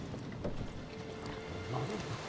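Horse hooves clip-clop in The Witcher 3: Wild Hunt on PC. The game sound is quiet and steady, with soft irregular hoof thuds over low ambient noise.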